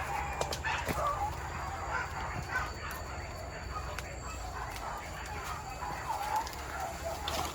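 Several dogs bark and yip at a distance over steady outdoor background noise, scattered through the stretch.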